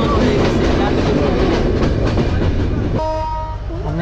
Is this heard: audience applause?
no